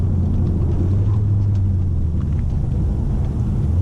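A Dodge Challenger driving along canyon roads, heard as a loud, steady low engine rumble with constant road noise and no break, close by throughout.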